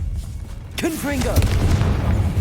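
Confringo explosive spell cast in Hogwarts Legacy, a loud booming blast with rumbling low end in the thick of a fight, with a voice speaking over it.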